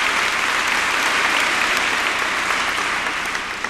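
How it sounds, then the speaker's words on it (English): Enthusiastic applause at a New York gala for a Medal of Honor recipient, a thick, continuous wall of clapping from a large crowd that holds steady and begins to thin in the final moments. "Let's give that Medal of Honor winner a round of applause."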